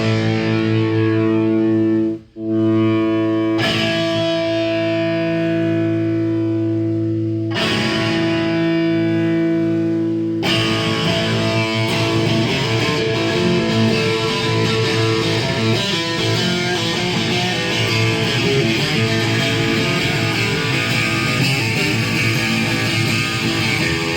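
An electric guitar, left for years in a basement, plays through a distortion effect. Sustained, heavily overdriven chords ring out loud and dense, with a brief cut early on before the fuzz swells into a continuous wall of crunchy tone.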